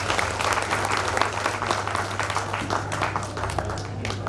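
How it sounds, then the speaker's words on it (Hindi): A literary gathering audience claps to welcome a poet, steady applause throughout over a low constant hum from the venue's sound system. "तालियां बजा के इनका स्वागत है"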